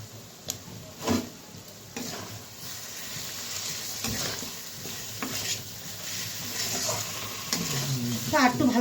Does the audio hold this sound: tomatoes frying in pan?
yes